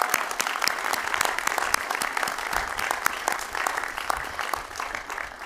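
Audience at a college commencement ceremony applauds the graduates' parents and families, a steady, dense clapping that carries on across the whole stretch without talk over it.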